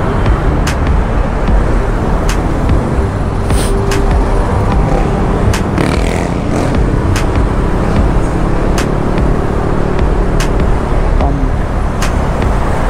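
Steady, loud road traffic noise heard from a motorcycle, with a constant roar of passing cars and engines and a few sharp clicks, no talking.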